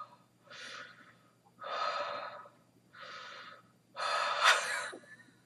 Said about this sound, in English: You're connecting the inhale with the exhale. It's like a circular breathing flow.